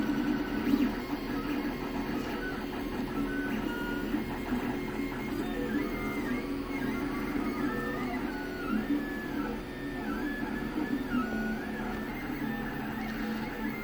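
A 3D printer prints a green PLA dodecahedron with an extruder at about 210 °C, giving off a steady hum and a repeating pattern of whirring, chirping stepper-motor tones, with no voices.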